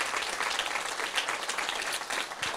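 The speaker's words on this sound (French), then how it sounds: "on peut les applaudir" Audience applauding speakers at a talk, a brief, steady burst of dense clapping from a seated crowd, moderately loud and even throughout.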